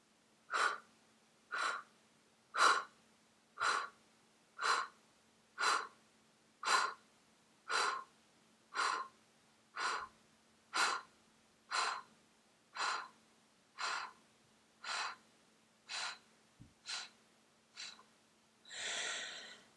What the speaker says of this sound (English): you blow out and you hold. You blow out and you hold